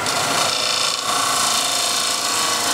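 A lathe gouge cuts steadily into a spinning wooden bowl, throwing ribbons of shavings; a loud, continuous hissing rasp over a low motor hum, close by and unbroken, with no talking.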